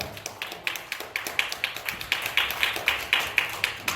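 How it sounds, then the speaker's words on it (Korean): A church congregation at a revival meeting applauds to welcome a pastor, a steady run of light, evenly spaced claps that sound fairly soft and a little distant, with no talking over them. "우리 최영길 목사님 우리 열렬한 박수로 환영합니다"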